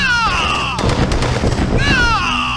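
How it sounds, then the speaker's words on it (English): Heavy gunfire and explosions from the Command & Conquer: Tiberian Sun battle game, a loud burst of rapid shots and booms between stretches of electronic, voice-like game sounds. "Taking heavy fire!"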